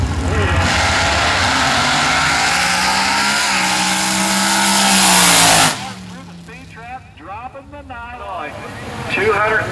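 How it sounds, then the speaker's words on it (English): Front-engine dragster with a 460 cubic inch Chevrolet engine at a drag strip, a loud roaring run that swells then cuts off sharply, followed by a quieter passage with crowd and voice sounds. "the front engine dragster, 460 cubic inches Chevrolet"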